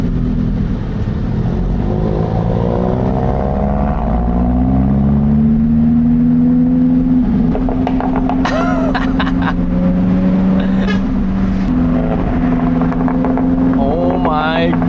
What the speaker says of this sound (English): that Golf, man, it burbles